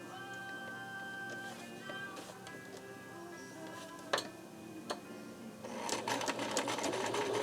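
A sewing machine stitches a mermaid skirt, its steady mechanical whirr running at close range with a few brief clicks and shifts in pace as the stitching continues.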